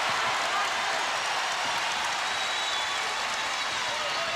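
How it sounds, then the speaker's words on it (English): A basketball arena crowd at Game 1 of the 1991 NBA Western Conference Finals, Lakers at Portland Trail Blazers, roars and cheers in a loud, continuous wash of noise that holds steady for several seconds. "Here comes the crowd."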